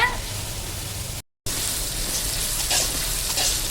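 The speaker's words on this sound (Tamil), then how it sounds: "சிக்கனை போட்டுட்டு எப்போவுமே நல்லா வதக்கி விட்டுக்கோங்க" Chicken sautéing in oil in a large pan, a steady soft hiss and sizzle throughout, briefly cut out before resuming with light crackles.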